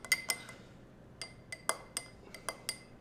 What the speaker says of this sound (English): Just stir them a little bit